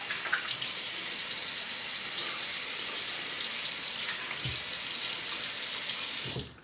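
Water runs steadily from a tap into a sink while the face is wetted before shaving. It is a close, continuous hiss with brief splashy dips as hands move through the stream, and it cuts off at the end.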